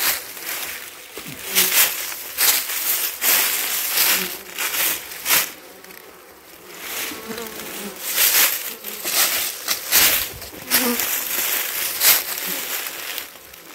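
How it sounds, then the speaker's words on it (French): Honeybees swarming around an active hive entrance in warm sunshine, a dense close buzzing that swells and fades as individual bees fly past the microphone, with a faint voice now and then. "dès qu'il fait chaud, dès qu'il y a du soleil, ça sort."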